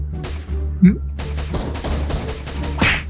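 Bursts of gunfire in the PUBG Mobile video game crackle over a steady low hum, with a person talking through much of it.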